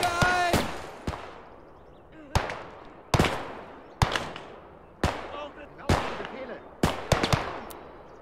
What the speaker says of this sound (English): MG, shoot him down.